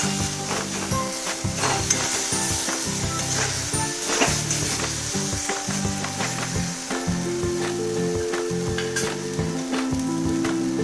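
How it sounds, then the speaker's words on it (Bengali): Spices fry in hot oil for a spicy pointed gourd bhorta, giving a continuous close sizzle with scraping stirs and occasional sharp spatters throughout, with no talking. "মশলাটা পুরো তেলে ভাজা হয়ে গেছে"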